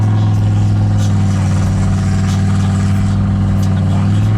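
A turbocharged LS engine in a truck on a test drive gives a loud, steady low drone from close by that barely changes in pitch, with no talk.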